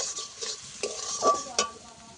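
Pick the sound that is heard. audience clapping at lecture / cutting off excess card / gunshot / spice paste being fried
spice paste being fried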